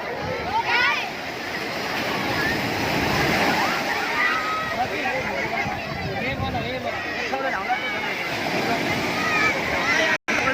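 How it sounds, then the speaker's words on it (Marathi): Sea waves wash and splash onto the beach at Girgaon Chowpatty in Mumbai, a steady broad roar of surf with surging swells, heard under lively voices of people on the shore. "आली आली आली आली लाट आली लाट आली"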